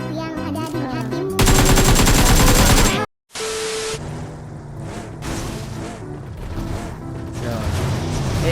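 Rapid bursts of automatic gunfire rattle loudly over game music in PUBG Mobile, with a brief silent gap before the shooting and music resume.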